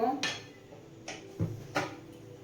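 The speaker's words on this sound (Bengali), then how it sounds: "আমি এবার গ্যাসটা অফ করে নামিয়ে নেব" A cooking pot of Gokul pitha is lifted off a gas stove: a few close metallic clanks and scrapes of pot against the burner grate, spaced unevenly over a couple of seconds.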